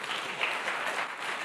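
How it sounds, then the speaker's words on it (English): Steady applause from a conference audience at a decentralized science event in Berlin, continuous even clapping at moderate level throughout the short burst. "let's give a round of applause"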